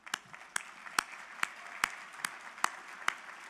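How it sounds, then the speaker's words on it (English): Banquet audience giving a round of applause for the catering team, with scattered hand claps, a few sharp and prominent, spaced irregularly over a soft crowd bed. "Please join me in giving a round of applause to the Delta by Marriott team for a wonderful meal this evening."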